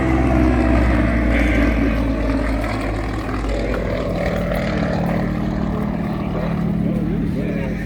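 A Yakovlev Yak-52 aerobatic aircraft flies a display at an airshow, its radial engine and propeller droning loud and steady with a shifting pitch, while a commentator talks over it.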